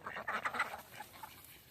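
Domestic ducks on a riverbank give a short burst of several quacks close by, which trail off into fainter calls.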